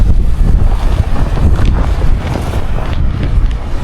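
Strong Santa Ana windstorm gusts batter a small clip-on microphone in Southern California, a loud, rumbling roar of buffeting that surges and dips in irregular pulses without letting up.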